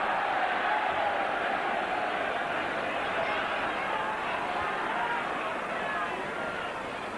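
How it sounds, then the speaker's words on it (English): Rugby league stadium crowd roaring over a forward pass at a 1997 Warrington versus Salford cup match, a steady distant wash of crowd noise that runs under the whole stretch. "The crowd roar for a forward pass."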